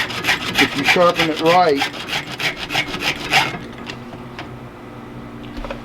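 A file strokes rhythmically across a chainsaw chain during sharpening, a dense run of raspy scrapes that stops partway, followed by quiet and a brief spoken word.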